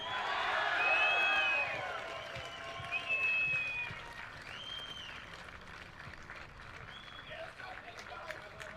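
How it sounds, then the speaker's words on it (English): A crowd applauds the 2022 Tasmanian Rugby Union Premiership men's champions, Launceston Rugby Club, at a trophy presentation. Loud clapping with whistles and whoops opens it, then the applause thins and fades to a lighter patter. "So, round of applause"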